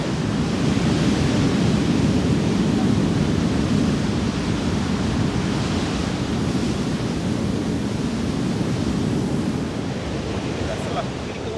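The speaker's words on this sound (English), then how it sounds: "You have the sound of the waves and the wind." Steady broadband roar of Atlantic surf and gusting wind on a Cape Verde beach, loud and continuous with no distinct breaks.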